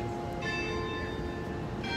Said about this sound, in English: the end of the video with the church bells ringing